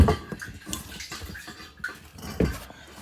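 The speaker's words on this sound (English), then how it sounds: "I can see the fuel sloshing in there." Liquid sloshes and splashes in a 1975 Chevrolet Corvette fuel tank, soft uneven gurgles with a few louder splashes, close up and without any talking.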